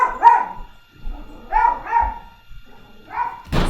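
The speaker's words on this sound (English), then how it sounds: "it's my dog barking" Dog barking indoors at a mail carrier, a few sharp barks in uneven bursts separated by short gaps, close and fairly loud, ending with a noisier burst.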